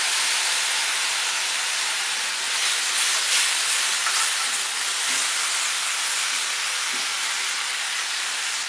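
Onions frying in a pan for chicken tikka masala give a steady, close sizzling hiss that holds evenly throughout with no talk over it.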